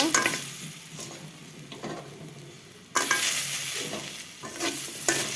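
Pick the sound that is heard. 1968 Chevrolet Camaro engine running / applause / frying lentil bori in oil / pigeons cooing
frying lentil bori in oil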